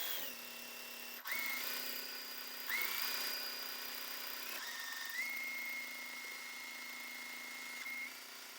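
A sewing machine stitches a quilt seam in several whirring runs, each starting with a click and holding a steady motor whine with brief pauses between.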